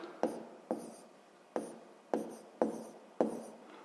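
A pen or chalk writes numbers by hand during a sixth-grade maths exercise. About six short, close scratchy strokes sound at uneven intervals in an otherwise quiet room.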